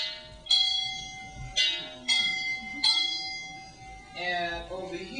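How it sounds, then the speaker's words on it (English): Old salvaged fire alarm bells struck one after another, giving four bright metallic dings with long ringing decays, followed by a softer clanging flurry, heard fairly close and alone. "And over here, I have some fire alarm bells."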